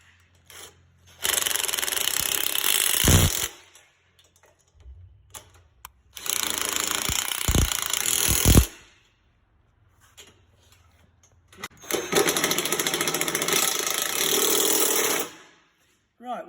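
Power tool driving a 14mm socket onto the wheel bolts and 13mm nuts of a pizza oven stand, heard as three loud, sustained whirring bursts of a few seconds each with quiet gaps and faint clicks in between.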